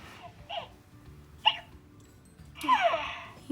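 A Baby Alive toy doll lets out a few soft, brief electronic hiccups, spaced apart, faint against a quiet indoor background.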